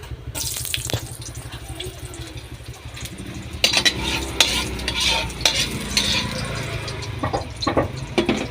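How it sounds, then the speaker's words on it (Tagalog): Mussels and shrimp cook together in a pan, loud and close, with vigorous stirring and repeated utensil scrapes over a bubbling sizzle throughout. "luto tag tahong. Haluan tag hipon."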